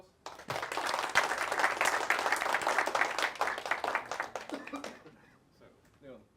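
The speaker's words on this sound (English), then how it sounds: "So shall we then give Leon a round of applause?" An audience claps after a technical talk, a dense burst of applause that starts abruptly, holds for about four seconds, then thins out and fades away.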